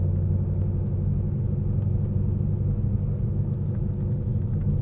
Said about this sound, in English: A lot of neato backfiring going on.